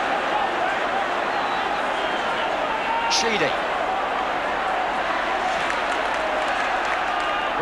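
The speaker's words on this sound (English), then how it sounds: "The ground is humming now as the crowd debate that." A football stadium crowd at a Liverpool v Everton derby hums and murmurs as a continuous, loud wash of voices. A commentator speaks briefly over it.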